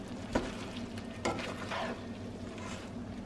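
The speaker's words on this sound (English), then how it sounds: "So now I'm gonna add the chile. Ooh. All over. And then just mix it all together." Shrimp a la diabla sizzles in a pan as chile is stirred in, a soft, continuous frying hiss broken by a few sharp scraping stirs near the start.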